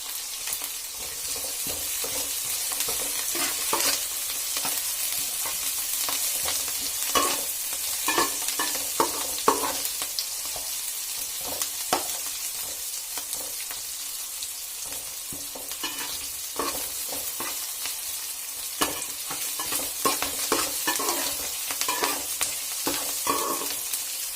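Fenugreek seeds fry in oil for a fish curry, giving a steady close hiss with scattered sharp crackles and pops throughout, with no voice over the frying.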